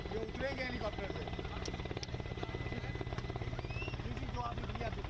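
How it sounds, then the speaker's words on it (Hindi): A helicopter's rotor chops steadily in a fast, even thud under continuous talk from several voices, staying at a fairly constant level throughout, with the engine whine faint beneath. "ये उतरेंगे हेलीकॉप्टर से।"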